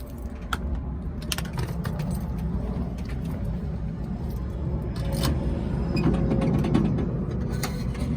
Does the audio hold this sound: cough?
no